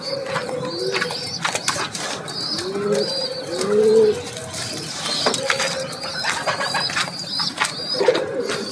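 Pigeons in a loft coo and murmur repeatedly, with soft burbling calls mixed with scattered rustles, clicks and wing flutters, fairly close and with no talk.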